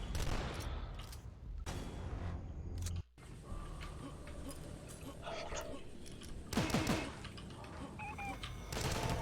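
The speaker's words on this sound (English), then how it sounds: "we're going to fire 6 rockets. Rocket jump all the way to the top" Rockets fire repeatedly in the shooter game Dusk, a run of dense, loud blasts and whooshes packed close together, with mechanical clanks between volleys and a brief cut to near silence partway through.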